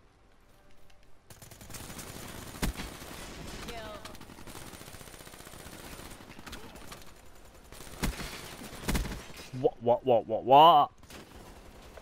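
Gunfire in Call of Duty: Black Ops III comes as scattered single shots and short bursts over a murky game background, building to a cluster of louder hits near the end, where a voice briefly speaks.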